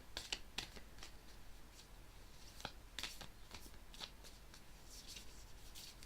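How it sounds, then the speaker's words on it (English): A tarot deck is cut and shuffled by hand, giving faint crisp riffles and soft card slaps in an irregular series of short bursts against a quiet room. "Cut the deck."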